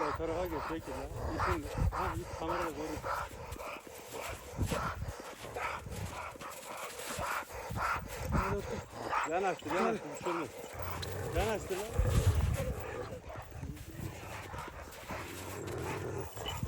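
Kangal breeding males on a farm, barking and moving about near at hand, with hoof-like clopping mixed in and people talking throughout.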